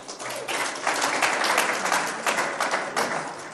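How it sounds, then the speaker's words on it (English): An audience at a Nigerian political candidates' event breaks into dense, steady applause that swells and stays loud throughout, with no speech on top. "you'll get your applause"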